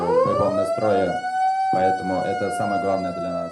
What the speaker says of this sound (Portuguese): Que soem os alarmes!